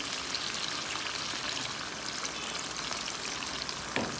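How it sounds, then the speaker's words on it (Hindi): Cauliflower goes into a pot of well-fried beef, and a continuous hissing sizzle with faint crackles runs evenly throughout, close by, with no talking. "गोश्त अच्छी तरह भुन चुका है। अभी मैं डालने लगी इसमें गोभी"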